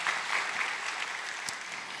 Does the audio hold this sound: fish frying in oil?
no